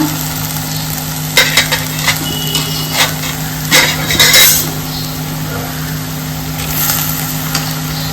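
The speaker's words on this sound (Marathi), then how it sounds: "एकदा मिक्स करून घेऊया वाल आणि अळू" Field beans and taro leaves are stirred in a pan over a steady background hum, with a few scraping and clacking strokes of the spoon against the pan and a faint simmer in between.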